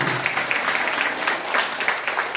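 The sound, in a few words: applause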